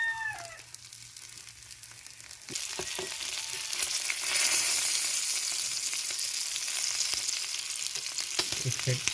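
Food sizzles loudly on a very hot tawa griddle, a bright steady crackle that swells after a quiet start and holds to the end, with a few clinks.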